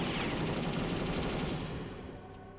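Loud, sustained gunfire from the video game Perfect Dark rattles continuously at close range, then fades slightly toward the end.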